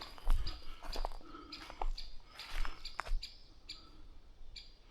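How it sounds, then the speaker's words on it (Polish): Small forest birds chirp and tweet in scattered short calls, with a few rustling footsteps and soft crunching sounds close by on a windy day outdoors in the woods. "ptaszki pięknie ćwierkają."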